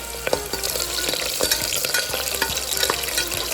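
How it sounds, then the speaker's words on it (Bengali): Onions frying in hot oil inside a pressure cooker, a steady broadband sizzle with scattered crackles and a few spoon scrapes and stirs, close and fairly loud, no talking. "এবার আমি পেঁয়াজগুলো দিয়ে দিচ্ছি।"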